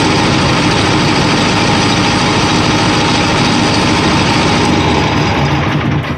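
A Caterpillar C4.4 Perkins diesel engine on a Bandit Intimidator 12XP wood chipper idles steadily after an oil change, a loud, close, even rumble with a constant low drone that dips slightly at the very end.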